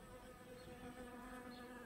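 Faint, steady buzzing of bees at close range around flowering verbascum in July, a continuous low hum with no voices.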